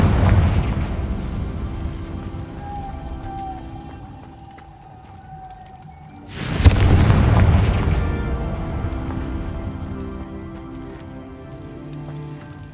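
A Confringo fire spell explodes in Hogwarts Legacy on Xbox Series X with a loud, sudden boom about midway, followed by a rumbling decay over steady ambient game sound and rain-like background texture.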